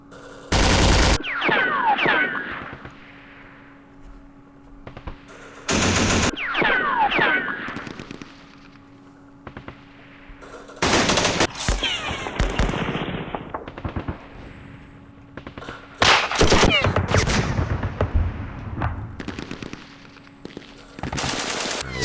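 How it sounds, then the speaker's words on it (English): Machine guns in the Middle East wargame Campaign Series Middle East fire loud, dense, rattling bursts again and again, with short gaps between volleys and no voices. "That machine gun."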